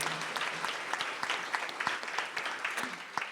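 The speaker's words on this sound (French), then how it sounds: "Donc, une grande main d'applaudissements pour Maïlie." Applause for an event organizer at the opening of a French-language day on the cost of living, a soft, scattered patter of hands clapping from a modest audience, steady throughout with no voices over it.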